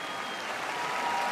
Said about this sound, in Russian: Валерий Леонтьев, ваши аплодисменты.